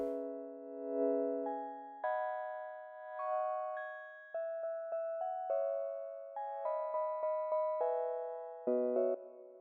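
Alchemy synth preset called Sound of Life playing a slow melody of clean, bell-like tones, first a soft sustained chord, then a stepped line of plucked notes, quiet and alone.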